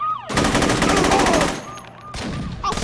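Sustained gunfire in the Saints Row video game, a loud dense rattle of rapid shots that stops, leaves a gap, then resumes briefly near the end.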